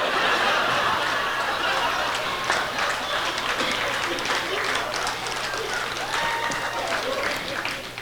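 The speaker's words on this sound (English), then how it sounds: "Please don't clap too much" Audience clapping at a talk given by a woman comedian, a dense burst of applause mixed with scattered laughter and chuckles from the crowd, tapering slightly as it continues.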